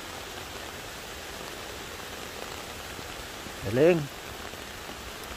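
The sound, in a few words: rain falling at a waterfall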